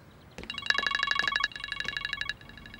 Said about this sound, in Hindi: सातिर की कॉल है।